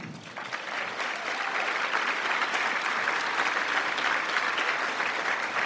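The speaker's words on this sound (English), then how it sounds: "You may now applaud" An audience at a county State of the County presentation breaks into sustained applause, a dense, even roar of many hands clapping that swells in the first second and holds steady to the end.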